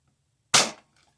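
A Nerf Dino Squad Raptor-Slash blaster fires one shot, a single close, sharp pop with a quick fading tail, set in near silence with no talk.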